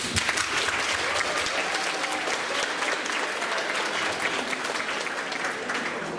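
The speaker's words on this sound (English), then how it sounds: "a big round of applause to the teachers" A school Christmas concert audience gives the teachers a big round of applause, a thick, continuous roar of many hands clapping at full strength throughout.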